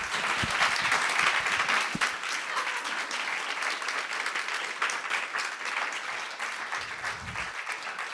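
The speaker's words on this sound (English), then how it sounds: "Let's give them a big round of applause." An audience at a panel on Nordic female leaders gives the speakers a sustained round of applause, many hands clapping evenly for about eight seconds at moderate volume from across the room.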